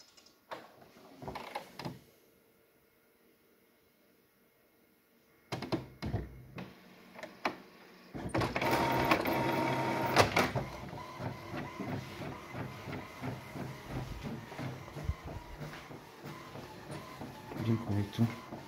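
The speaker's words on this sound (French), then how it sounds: "il n'y a plus qu'à attendre l'impression" An inkjet-style home printer connected over WiFi starts printing a document, with whirring feed and carriage mechanism sounds running steadily for several seconds after some handling noises, while a person talks intermittently nearby.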